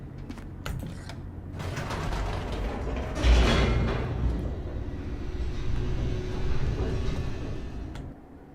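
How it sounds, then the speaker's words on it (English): An elevator in The Stanley Parable descends with a continuous low mechanical rumble and creaking, rattling clicks, swelling in the middle and easing toward the end. "The elevator raced downward, plummeting towards an unknown fate"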